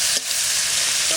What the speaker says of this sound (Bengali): ওই তেলের মধ্যে রান্না করব তেজপাতা, জিরে, শুকনো